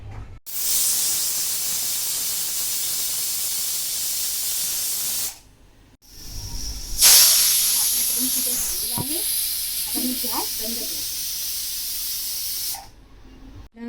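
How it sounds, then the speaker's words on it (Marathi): A pressure cooker cooking stuffed brinjal masala hisses loudly with a sustained rush of escaping steam, pauses briefly, then whistles sharply and keeps venting with rattling underneath. "आता याला 2 शिट्या येईपर्यंत आपण शिजवून घ्यायचे."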